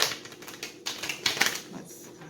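A deck of tarot cards is shuffled in quick bursts, giving close, crisp, papery clicking and rattling that rises and falls in short bouts over a couple of seconds.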